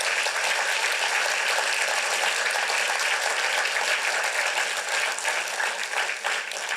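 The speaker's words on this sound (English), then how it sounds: "We also need to give another round of applause to to our steering committee," Sustained applause from a large audience at a PechaKucha Night event in Burlington, a dense, even wash of clapping that holds steady from start to finish.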